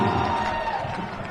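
A home crowd at a Big Bend community college men's basketball game roars after a lay-up, a dense, steady wash of cheering and voices filling the gym for over a second.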